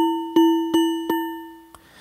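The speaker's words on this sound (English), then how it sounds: "So let's hear just noise going through." Physical modeling synth in Ableton Live 11 sending noise through a resonator, producing four bell-like metallic dings at a steady pace, each ringing down with a clear pitched tone, the last one cut short.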